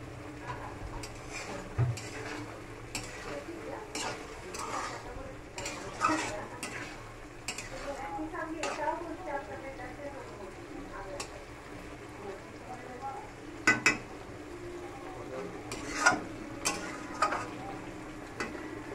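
Soybean chunks with spices being dry stir-fried in a pan, with repeated scraping and stirring clatter, light sizzle and occasional sharp utensil knocks against the pan, close up under a steady kitchen background.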